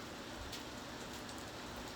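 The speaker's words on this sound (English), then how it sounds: "it's been raining all day" Steady rain falling outside on a warm day, a constant soft hiss with faint patter of drops, no voices.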